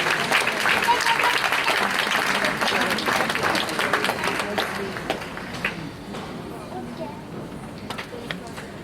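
An audience at a school annual prize distribution claps in sustained applause, dense and fairly loud at first and then thinning out and fading over several seconds.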